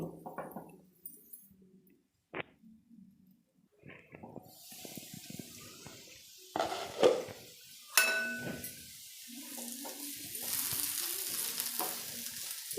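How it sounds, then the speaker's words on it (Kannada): Spices and potatoes fry in oil in a pan over a medium flame. Quiet clatter and spatula taps give way to a rising, steady sizzle with sharp metallic scrapes and knocks. "ಈಗ ಮಸಾಲೆ ಎಲ್ಲ ಎಣ್ಣೆಲಿ ಸ್ವಲ್ಪ ಫ್ರೈ ಆಗಿದೆ"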